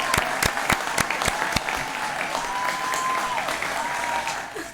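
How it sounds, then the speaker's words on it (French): Studio audience applauding during a French chat show, a steady wash of clapping with a few sharp individual claps at the start and a faint whistle over it. "Un maximum d'applaudissements pour Ewan, s'il vous plaît."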